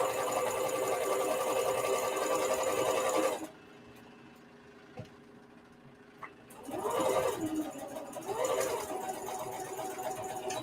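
A sewing machine back stitches along a men's shirt, running in a steady whirring burst, pausing briefly, then starting again in two short runs.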